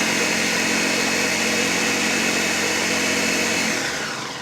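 Food processor blending Ritz crackers, French fried onions and mushroom soup into a casserole base, a loud steady motor whine that runs nearly four seconds before winding down, no voices.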